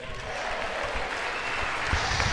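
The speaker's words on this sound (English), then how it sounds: "the president getting some applause there" Brief applause in a legislative gallery following the president's remarks, a steady patter of clapping heard at moderate distance throughout the short moment, with no speech over it.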